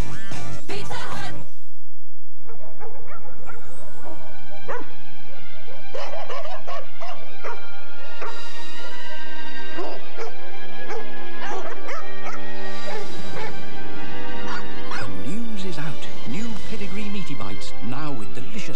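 A dog in a Pedigree dog food TV advert barks and yips in short bursts mixed with whimpers, loud and close over music, with a narrator's voice talking throughout.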